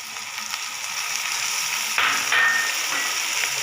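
Ginger, garlic, chilli, coriander, turmeric, salt and tomato frying in a pan for a spiced masala, a continuous close sizzle with occasional stirring scrapes and clinks.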